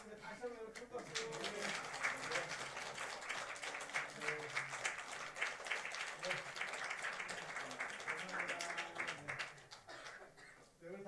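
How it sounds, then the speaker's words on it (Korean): Church congregation clapping at a Korean church's founding anniversary service, sustained applause from a crowd with a voice speaking over the start and end. "다시 한번 큰 박수."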